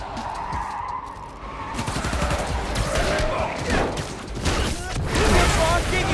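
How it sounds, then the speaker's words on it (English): Gunfire and rocket-launcher blasts in the PS5 video game Marvel's Spider-Man: Miles Morales, a loud, busy stretch of rapid bursts, booms and skidding action layered under in-game voices. "Did your boss give you rocket launchers?"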